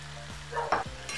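A spoon stirs cooked hadga (agathi) flower vegetable with soaked dal and fresh coriander in a pan, giving a short scrape and gentle sizzle, close up with no talking.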